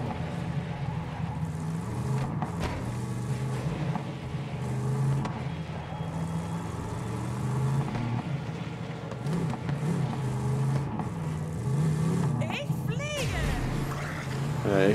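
A car engine drones steadily while driving in Borderlands 3, a continuous rumbling hum with occasional rises, running under game sounds and a voice talking over it.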